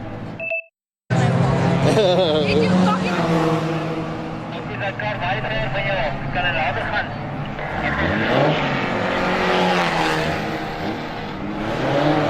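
Race cars on a motorsport circuit roar past with rising and falling engine whines, one sweeping by close around the middle, while a commentator talks throughout.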